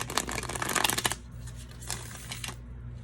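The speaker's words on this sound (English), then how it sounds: "I love shuffling this smaller deck" A small deck of tarot cards being shuffled by hand, a loud riffling burst lasting about a second followed by softer intermittent card flicks and slides, close up with no talk.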